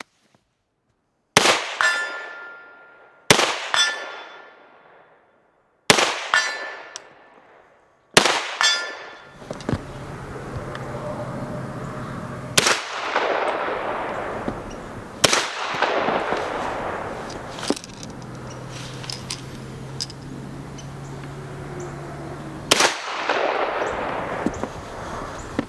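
A rifle fitted with a suppressor fires during a function test, with four sharp, separate shots followed by a faster string of loud reports, each shot ringing with a metallic clang and echoing outdoors.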